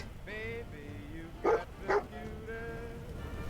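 Dogmeat, the dog companion in the Fallout 4 video game, gives two sharp barks in quick succession amid a whining, tonal game soundscape, close and loud against the steady background.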